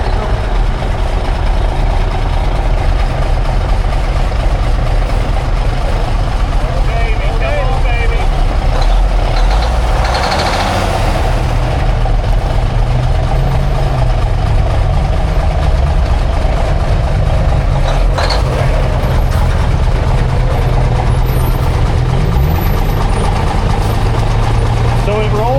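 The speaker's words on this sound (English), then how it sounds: "He's just building his air pressure real quick." A heavy truck engine idles steadily while building air pressure during a recovery job, a loud continuous low rumble throughout, with people talking nearby.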